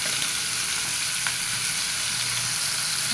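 Figs (dumur) frying in hot oil in a pan, a dense, loud, continuous sizzle and crackle with no breaks and no talking.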